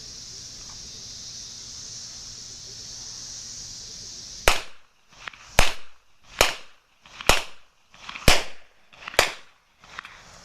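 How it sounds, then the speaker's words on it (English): An older-model Taurus 66 revolver fires six sharp, loud double-action shots in quick succession, each cracking about once a second after a quiet stretch of faint background hiss. "we're going to shoot rapid fire for a little small target this time, and we'll come out of the holster"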